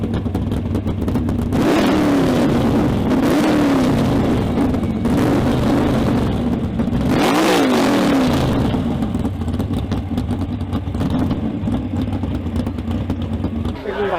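A Dodge Magnum's Mopar V8 with side-dumping header exhaust idles loudly and lopes, then revs in two strong blips that rise and fall, with a steady rumble in between.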